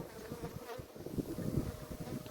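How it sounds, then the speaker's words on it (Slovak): Honey bees buzz steadily in an open hive during a quick beekeeping check, a dense, continuous droning hum with close, faint fluctuations and no voices. "Tak ešte posledné včelstvo."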